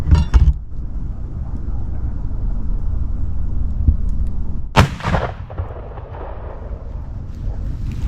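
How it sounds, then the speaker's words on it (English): Muzzleloader rifle fired while hunting, one loud sharp boom partway through with a rolling outdoor echo, set against steady wind or background rumble. "I'm gonna shoot."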